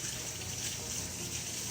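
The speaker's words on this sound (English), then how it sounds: "Let me rinse my hands." Tap water runs over sticky hands at a kitchen sink in a short, steady, soft rush, fairly close, with no voices.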